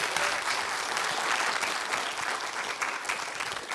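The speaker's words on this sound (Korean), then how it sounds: "큰 박수 한번 부탁드립니다." A big audience claps steadily and evenly to welcome a mart owner to the stage at a talk event, a dense, moderately loud wash of applause with no speech over it.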